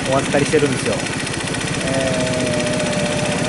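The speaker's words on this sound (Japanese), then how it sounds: "チョークでしばらくアイドリングして" A small Suzuki Choinori motorcycle engine putters in a rapid, even idle on choke throughout, with a person talking over it at the start.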